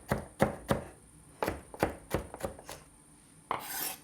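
A knife chops seaweed on a board in a short run of crisp, close thunks, about nine strokes in an uneven rhythm, with a brief rustle at the end.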